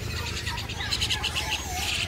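Caged songbirds such as mynas at a bird market that also sells other animals and snakes, giving repeated bright chirps and calls over a steady low hum of market background noise.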